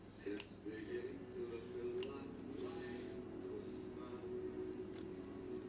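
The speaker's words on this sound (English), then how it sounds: "And then I'll just trim off any frays that might be on the bag." Scissors snipping frayed threads off a small craft bag, a few quick light clicks and snips scattered over a quiet background, close and soft, with faint voice in the room.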